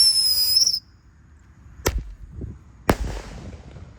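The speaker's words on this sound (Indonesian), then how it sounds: "kita nyalakan Happy Power 4. Ini meledusnya 2 kali di bawah dan di atas" Happy Power 4 firework set off outdoors: a whistling launch fades, then two sharp, loud bangs follow about a second apart, the second with a crackling tail, with no talk.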